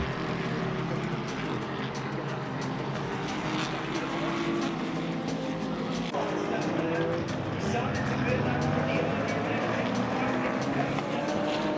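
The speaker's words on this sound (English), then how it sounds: "Watching these cars go around, just watching them, work their way through traffic" IMSA race cars circling the Brickyard in traffic, a sustained engine roar at moderate distance with shifting pitch as cars pass, over a constant crowd-and-track hum.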